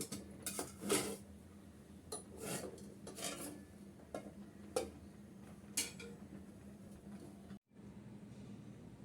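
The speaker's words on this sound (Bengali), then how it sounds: "আমি এখন চুলাটা অফ করে দিচ্ছি আর চুলা থেকে আমি প্লেটটা নামিয়ে নিচ্ছি" A plate being taken off a stove after baking homemade buns, giving a few scraping rasps and light metallic clinks over a steady low background hum, with no voices.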